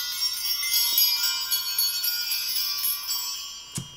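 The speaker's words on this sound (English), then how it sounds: "so I'm going to ring these bells." Small hand-rung bells shimmer continuously in a quiet indoor space, a bright sustained ringing with repeated light strikes, ending with one sharper tap near the close.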